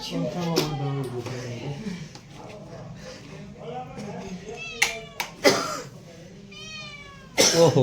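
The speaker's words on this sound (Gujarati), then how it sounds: "મીંદડું" A cat meows several times, short rising cries scattered among people talking, with one loud meow near the end.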